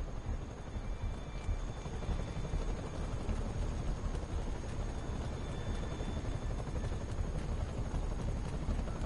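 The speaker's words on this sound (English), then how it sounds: "It's on this side because the helicopter's on this side." Helicopter in the Spider-Man video game gives a steady, dense rotor rumble that continues evenly throughout, fairly loud, with no talking.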